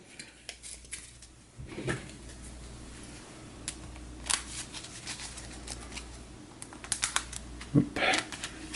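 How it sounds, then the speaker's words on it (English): Second deck of cards for a tabletop boxing game getting a quick shuffle, a series of crisp riffling flutters and taps in short bursts, close up over a quiet room. "I'll give the second deck a quick shuffle"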